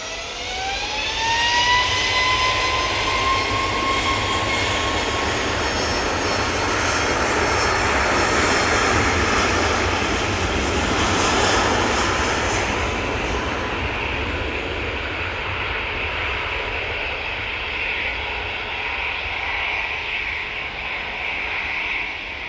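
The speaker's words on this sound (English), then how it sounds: "Right, 737 MAX 8 now on the roll." A Boeing 737 MAX 8 jet on its takeoff roll at Manchester Airport, a loud, sustained engine roar with a rising whine that swells and then slowly fades as the aircraft pulls away.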